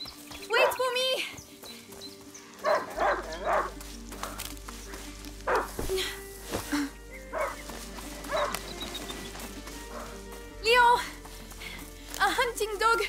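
A hunting dog in the video game A Plague Tale: Innocence gives a few scattered barks amid game music and people talking.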